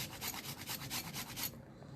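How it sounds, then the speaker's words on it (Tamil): Raw mango being grated into small shreds for a masala peanut snack, a steady run of rapid rasping strokes up close that stops abruptly near the end, leaving quiet. "இந்த மாங்காயை இந்த மாதிரி ஒரு பழகு சீவி எடுத்துக்கோங்க."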